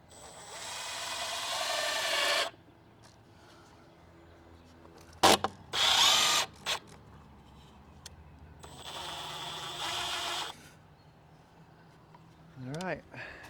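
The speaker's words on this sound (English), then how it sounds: "I just have some exterior finish screws, and I'm just gonna screw it to this post." A power drill drives exterior finish screws into a wooden cedar post in a few short bursts, with quiet gaps and someone talking in between.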